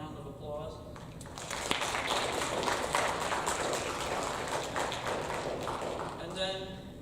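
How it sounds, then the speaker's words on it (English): A school audience claps for two state FFA officers during a middle school FFA awards ceremony, a steady round of applause building and holding for several seconds in a hall before tapering off. "If you'd like to give them a round of applause."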